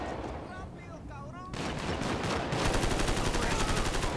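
Rapid automatic gunfire in a night patrol video game rattles in dense bursts, loud and continuous, getting heavier halfway through.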